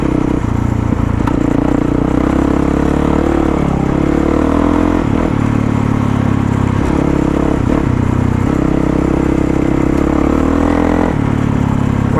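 A Yamaha WR450 dirt bike rides a loop trail, its engine loud and close throughout, with steady droning and repeated rises and dips in revs as the throttle opens and eases.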